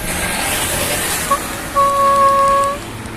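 A super-loud vuvuzela-style match horn sounds one short blast and then one longer, steady, piercing honk lasting about a second, close by, over faint background noise.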